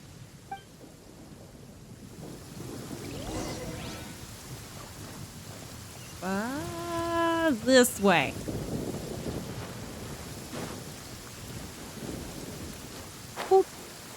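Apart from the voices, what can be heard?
rain and thunder in Genshin Impact video game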